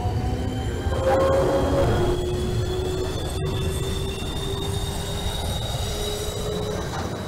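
A Manhattan-bound New York City subway 2 train on the Lexington Avenue route, recreated in the OpenBVE train simulator, rolls along with a steady loud rumble and long, thin wheel-squeal tones throughout. No one speaks.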